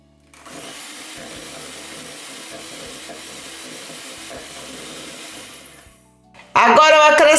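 Electric mixer whirring steadily as it beats cake batter for orange bem-casado into a light, fluffy cream, a continuous hissing drone for about six seconds that then winds down, followed by a louder clatter.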